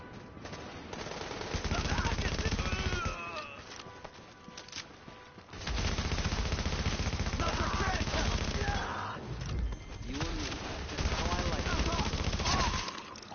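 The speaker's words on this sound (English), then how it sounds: "Supplies taking fire." Sustained automatic gunfire rattles in a shooter video game, The Division, in two long loud bursts separated by a brief lull, with voices speaking over the shooting.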